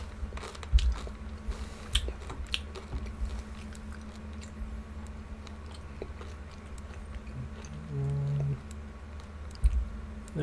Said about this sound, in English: I'm eating Doritos, which is very not healthy.